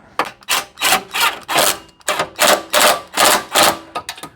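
A power wrench rattles up wheel nuts at gentle torque: repeated loud, close rattling bursts in a steady rhythm, about a dozen pulses with a short pause midway.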